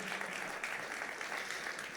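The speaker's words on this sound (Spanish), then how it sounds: "Fuerte ese aplauso de alabanza al Señor." A church congregation gives a strong, sustained round of applause in praise, a dense and even wash of clapping with faint voices underneath.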